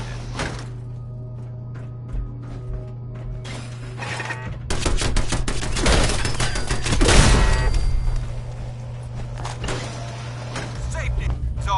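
Turrets opening fire in Fallout 4, a dense, clattering mechanical burst that swells to a loud peak midway and then fades back down, with game dialogue around it.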